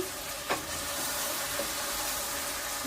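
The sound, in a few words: beef curry sizzling while being sautéed in a pan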